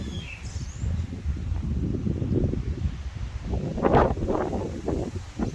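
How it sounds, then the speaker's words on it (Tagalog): Strong gusting wind buffets the microphone with heavy low rumbling, swelling and easing, louder near the end, with faint bird calls in the background. "Malakas yung hangin eh."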